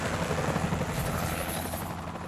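Coast Guard helicopter over Atlantic City, its blades throbbing in a loud, steady, close drone that holds unbroken throughout.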